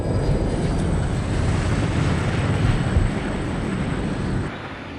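An airplane in a nosedive in the video game No One Lives Forever roars with a loud, sustained engine rush and wind noise that holds steady, then drops slightly near the end.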